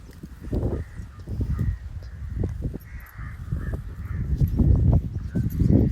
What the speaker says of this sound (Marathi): मळ्यातल्या पाखरांचा आवाज तुम्ही ऐकू शकता कसा आहे सुंदर